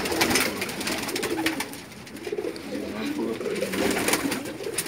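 Pigeons cooing on a rooftop loft in Jeddah, Saudi Arabia, with soft repeated coos and low throaty calls close by, over faint background noise and light movement.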